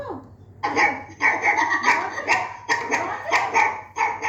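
A puppy barks repeatedly nearby in short, sharp, high yips that come in quick bursts about every half second and keep going with brief pauses between them.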